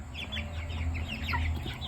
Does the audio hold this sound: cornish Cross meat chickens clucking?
yes